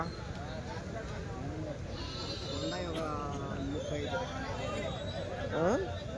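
Sheep and goats bleat repeatedly at a weekly Tuesday livestock market in Kadiri, with several wavering calls at mid distance over a steady crowd hubbub and background talk.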